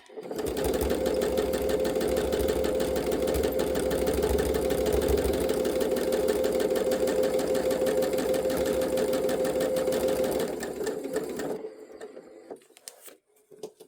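Close and loud, a sewing machine does free motion stitching on scrappy upcycled fabric hearts, running in one long steady whirring burst for about ten seconds, then slowing and stopping with a few small clicks and handling noises.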